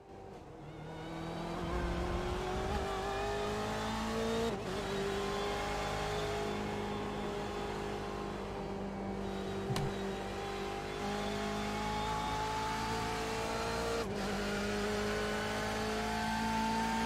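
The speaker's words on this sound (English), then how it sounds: "Go on board and listen to the sounds of this engine here." Onboard BMW race car engine in the iRacing video game at Road America, a sustained loud engine drone rising steadily in pitch with sharp breaks at gear changes, heard alone without talk.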